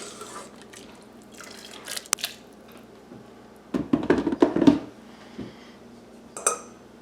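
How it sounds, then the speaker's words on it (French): Homemade butternut squash soup is poured and scraped from a pot into another container, giving a short burst of splashing, clinking and liquid clatter midway, with quieter kitchen handling and a faint drip before and after. "Je transvide mon potage. Je transfère le reste des légumes."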